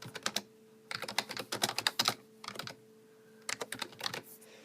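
Quiet, close-up typing on a computer keyboard, with quick bursts of key clicks broken by short pauses, and no speech.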